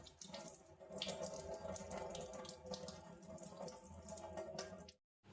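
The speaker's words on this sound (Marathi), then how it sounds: "सर्वप्रथम हे कवट स्वच्छ धुवून घेऊया." Wood apples being washed under a running kitchen tap, a steady close splashing water stream with dish-like clinks that stops abruptly near the end.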